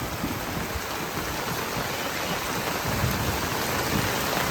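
Heavy monsoon rain pours steadily in rural Bangladesh, a loud unbroken hiss of drops on surfaces, with low thunder rumbling underneath and no voices.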